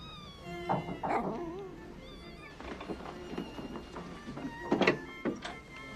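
Pet cats meow several times in a bedroom, short moderately loud calls spaced across the scene with a few soft thumps between them, no talking.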